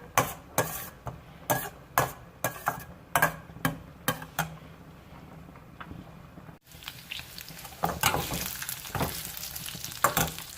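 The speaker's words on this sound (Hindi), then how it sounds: "अब हम हल्का सा इसे सौते करेंगे, बिल्कुल गोल्डन नहीं करना है इनको।" Finely chopped ingredients are sautéed lightly in a pan while making Chicken Manchurian, with a regular run of sharp spoon taps and scrapes against the pan, then a denser soft sizzle and stirring. No one speaks.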